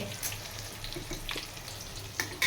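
Kebab pieces frying in hot oil make a steady bubbling sizzle at close range, with a few sharper crackles and spits toward the end and no talking.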